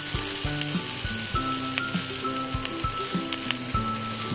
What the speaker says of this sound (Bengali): একটা মাঝারি মাপের হলুদ ক্যাপসিকাম কুচি দিয়ে কম করে এক মিনিট নেড়েচেড়ে নিতে হবে